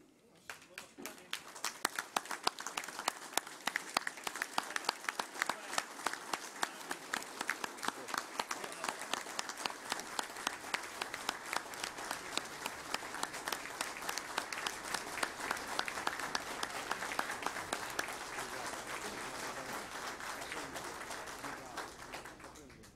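Standing audience applauding at a solemn council session honoring municipal civil guards in Sorocaba, a dense, sustained wash of clapping that builds quickly and holds steady at full strength for the whole stretch.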